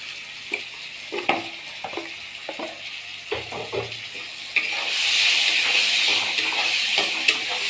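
Chili powder hits hot oil in a pan for a fish curry with ridged gourd, potato and pointed gourd, bringing a series of spatula knocks and then a louder, steady hiss of sizzling.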